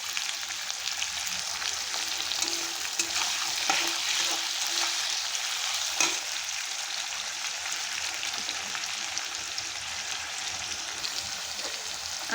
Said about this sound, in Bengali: আলুটা আগের থেকে লাল করে ভেজে নেব।